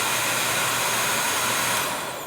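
Motor of a Bissell 3-in-1 stick vacuum, model 10597, running with a steady, broad airy whir and high whine, close and constant, tapering slightly at the end, no voices.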